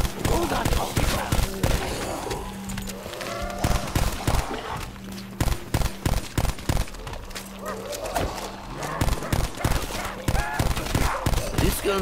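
Rapid gunfire bursts in the video game Call of Duty Black Ops Cold War, repeated volleys and single shots across the clip, loud and close, with a voice talking over parts of it.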